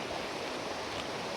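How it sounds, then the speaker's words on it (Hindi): A river flows right beside a parking area near a temple, a dense, steady rushing roar of water filling the whole short moment without a break, close and fairly loud. "पार्किंग के बगल से नदी की बहती हुई आवाज़ आ रही है"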